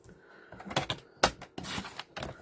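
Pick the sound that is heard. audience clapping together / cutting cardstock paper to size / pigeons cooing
cutting cardstock paper to size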